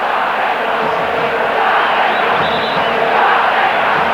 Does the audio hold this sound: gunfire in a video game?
no